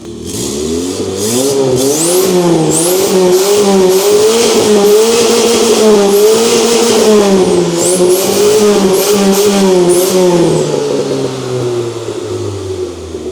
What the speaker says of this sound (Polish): dźwięk tego auta to jest coś pięknego.